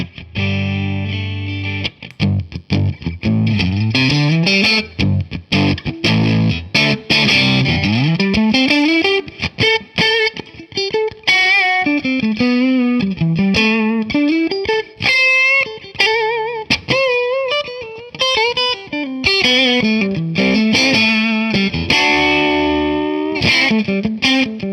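A heavily overdriven electric guitar plays a solo through a mid-boost EQ pedal into a Fender Pro Reverb amp, with gliding bends and sustained notes, its tone thick and pushed in the mids, loud and up front.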